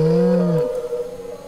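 Beluga-like whale call played as a sound guessing game clue: a loud, smooth tonal moan with rising and bending harmonics that fades within about half a second, leaving faint low background.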